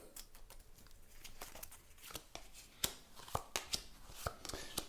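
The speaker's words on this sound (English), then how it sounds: "See if we can shuffle these a bit." Tarot cards are shuffled by hand in a soft, quiet run of papery riffling and light flicks, close up with no voices.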